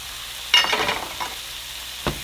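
Shrimp frying in a pan for crunchy shrimp tacos with potato, giving a short burst of sizzling as they hit the hot oil, then a softer sizzle and a brief stir near the end.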